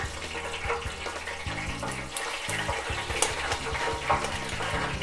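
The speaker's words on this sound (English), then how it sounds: "See what it does? It's bursting the skin and makes it a little more crispier." Pork skin for lechon kawali sizzles and crackles in hot oil, a dense continuous fry hiss broken by frequent sharp pops as the skin bursts, with no voices present.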